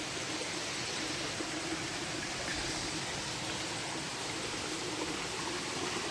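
Water of the Narmada stream rushes steadily near a waterfall, a constant, even broadband hiss that neither rises nor fades.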